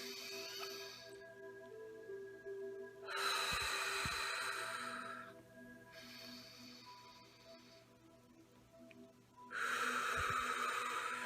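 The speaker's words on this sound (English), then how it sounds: "let's all take 2 deep breaths in" Two long, deep inhalations during a guided tapping and meditation session, each breath a broad airy rush lasting a couple of seconds, separated by quieter pauses with faint room tone.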